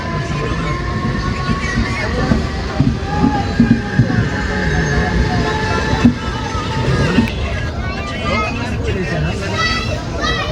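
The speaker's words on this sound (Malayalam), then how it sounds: "ആ ലോക്കൽ ട്രെയിൻ പോകുന്നുണ്ടോ?" A Panvel–Thane local train rumbles past close by with rhythmic rail clatter and a brief horn-like tone, while people talk loudly over it throughout.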